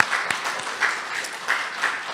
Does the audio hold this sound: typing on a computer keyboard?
no